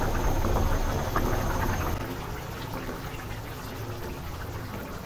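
Rui fish curry with pumpkin simmering in a pan on the stove, its gravy reducing in a dense, steady bubbling hiss that stays fairly loud throughout and eases slightly partway through.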